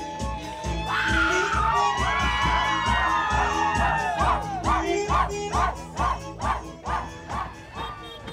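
At a traditional Pomeranian wedding celebration, helpers shout and cheer loudly while rhythmic thumps of flags striking the ground repeat steadily, building into a lively, crowded din with voices throughout.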